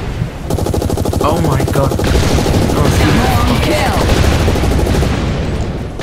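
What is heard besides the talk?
gunfire in a video game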